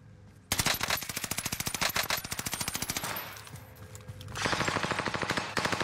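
A Tommy gun fires in a video game, long rapid bursts of loud automatic shots with a brief lull before another sustained burst, alone with no talk.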